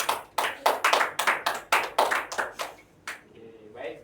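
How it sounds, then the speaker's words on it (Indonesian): A classroom group applauds a student presenter with a burst of brisk, close hand claps that fade out after about three seconds, followed by a few scattered taps. "Beri aplaus dulu untuk Fatria"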